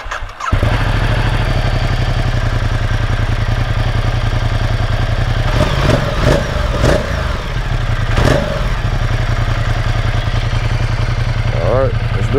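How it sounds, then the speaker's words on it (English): A Ducati motorcycle with its stock exhaust runs steadily nearby, a low, even engine thrum with a few brief revs in the middle, held at a moderate, not very loud level throughout. "I think this is the stock exhaust, so it's not loud"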